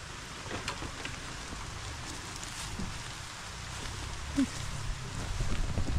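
Steady rain patters across an open farm field, a soft continuous hiss with scattered drop impacts and a faint bump, no talking over it.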